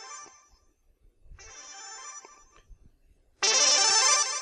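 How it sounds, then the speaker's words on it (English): A phone chimes with a news alert in two short tonal bursts, then a louder, denser third burst, with no talking over it. "I just got breaking news on my phone just now."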